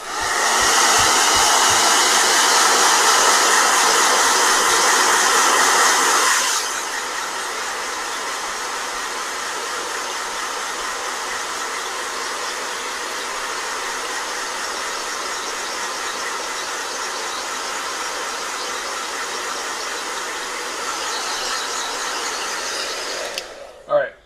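Blow dryer running continuously at close range, a loud steady whoosh that drops to a lower setting partway through and cuts off at the end.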